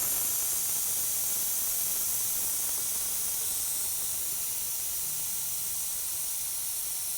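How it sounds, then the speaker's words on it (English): A deflating 4x4 tire lets air escape from its valve in a continuous, even hiss, close and unbroken throughout, with no voices. "how to deflate your tire without a tire gauge by Saki method"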